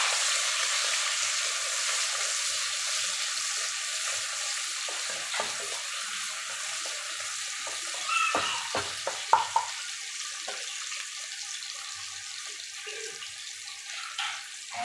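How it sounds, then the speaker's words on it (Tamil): Crushed shallots, fennel and curry leaves sauté in a pan for a chicken gravy, giving a steady hiss of sizzling oil with a few faint scrapes and stirs near the end. "சின்ன வெங்காயம் தட்டி எடுத்துக்கணும். தட்டி இந்த மாதிரி எடுத்துக்கணும். சிறிதளவு கருவேப்பிலை அதையும் சேர்த்துக்கணும். நல்லா வதக்கணும்."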